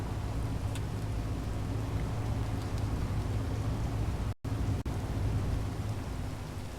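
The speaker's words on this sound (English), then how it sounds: "We're about to get struck by lightning." Thunderstorm on an Earth-like planet in Space Engineers, a steady loud hiss of rain with low rumbling thunder throughout, briefly cut off by two short dropouts.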